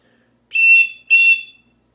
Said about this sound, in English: we might as well blow this whistle